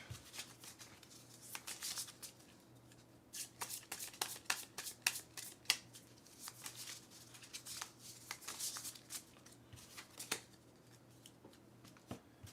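Playing cards are shuffled close up in a series of quick riffles and soft flicks, faint and irregular, with a low hum underneath and no speech.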